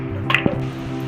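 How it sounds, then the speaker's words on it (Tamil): Water is poured into a metal pressure cooker holding mutton legs, a short wet splash and drip, a couple of quick squishy bursts close by, with a steady low hum underneath. "தேவையான அளவு தண்ணி சேர்த்துக்கலாம்."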